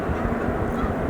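A flock of snow geese on Cayuga Lake honks in a dense, continuous chorus of overlapping calls that sounds moderately distant and steady throughout.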